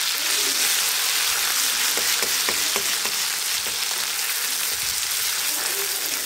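Spinach puree fries in oil in a pan with a steady, dense sizzle, close and fairly loud, with faint stirring scrapes and no talking.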